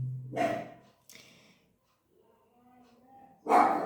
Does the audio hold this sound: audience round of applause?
no